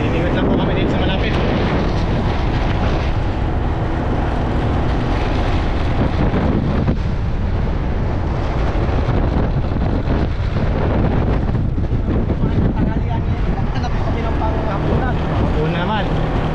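Strong seaside wind roars continuously at low tide, buffeting the microphone with loud, rumbling gusts that swell and ease but never drop away, and it stays close and dominant throughout.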